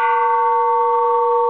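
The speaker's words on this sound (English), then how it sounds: "I have a small bell to show right now" Small bronze Japanese Buddhist temple bell ringing with a steady, sustained metallic tone and stacked overtones, loud and close, holding evenly without decay for the whole moment, with no voices.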